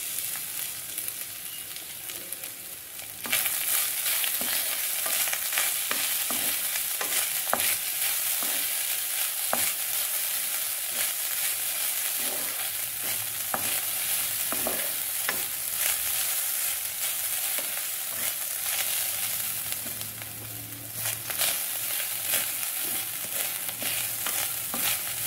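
Vadagam and grated coconut fry in hot oil in a pan, a loud close steady sizzle dotted with sharp crackles and pops, stirred throughout, with the intensity jumping up after a quieter opening.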